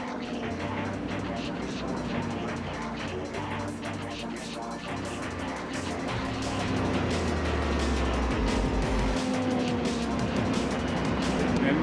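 A race car engine from a Gran Turismo 4 replay roars continuously with shifting revs and passing whooshes, loud and close, while a voice talks over it.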